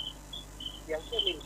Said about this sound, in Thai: เสียงจิ้งหรีดร้องกิ๊กกิ๊กกิ๊กกิ๊กกิ๊ก